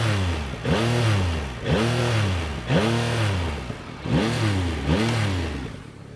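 A Yamaha MT-09 motorcycle with the Y-AMT gearbox revs its engine close by, five repeated throttle blips each rising and falling in pitch with short gaps between, loud and alone.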